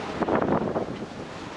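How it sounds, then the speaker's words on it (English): Wind blows at sea aboard a sailboat sailing upwind across the Bay of Biscay at about 10-15 knots, with waves; a steady broadband rush with a gustier swell of noise early on, no voices. "That's probably blowing like 10-15 knots right now."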